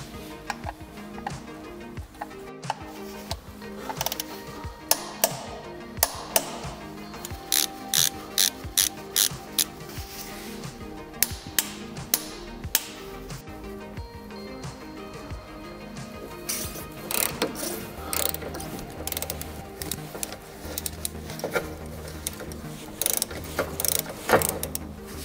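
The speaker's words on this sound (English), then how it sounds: "we now put back in the drain plug screws. We tighten those with 43 Newton meters." Ratchet tightening the drain plug screws on a Getrag DCT450 dual-clutch transmission during an oil change: a long run of crisp, rapid clicking pawl strokes in repeated bursts, close and clear with no talk.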